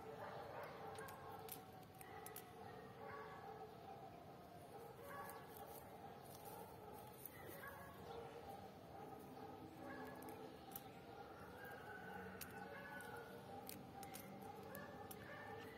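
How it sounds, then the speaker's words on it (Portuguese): Street dogs bark in scattered, overlapping bursts, heard at a distance and fairly faint against a steady outdoor background, with yips and whimper-like cries, no one talking. "Cachorro dessa rua hoje resolveram tudo latir."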